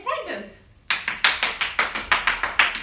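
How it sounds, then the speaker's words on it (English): Loud applause from a few people at home, opening with a short burst of voices before settling into a steady run of sharp, evenly spaced claps. "Loud applause"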